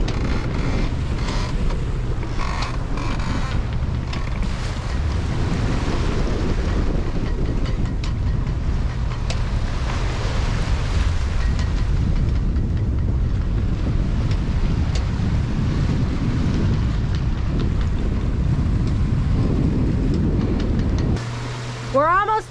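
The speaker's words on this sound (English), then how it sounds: "The wind's picked up a bit, but we haven't gained any speed, really. It's just made the sea state a little chaotic." Wind and choppy, chaotic sea aboard a sailing boat, a loud continuous rushing roar with buffeting wind noise on the microphone throughout and a brief sharper sweep at the very end.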